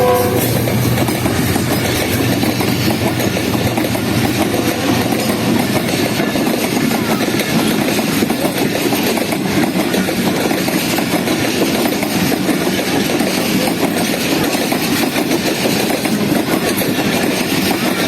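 The 39 Up Jaffar Express, a Pakistan Railways train running between Quetta and Peshawar, rolls into a station with a loud, steady rumble and rhythmic wheel clatter that holds for the whole stretch.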